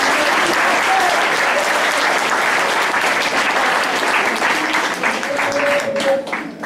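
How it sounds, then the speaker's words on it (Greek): An audience at a music event in Filiatra fills the hall with sustained, dense applause, steady and loud for several seconds before thinning slightly at the end. "Ένα χειροκρότημα."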